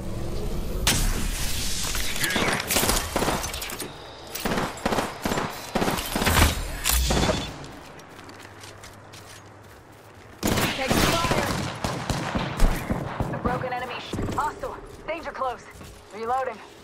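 Weapon fire in the Apex Legends battle royale game: loud, rapid bursts of close gunshots in clusters, a quieter pause, then more volleys, with a player's voice talking over parts of it.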